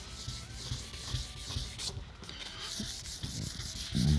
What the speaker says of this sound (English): Let's sand some texture.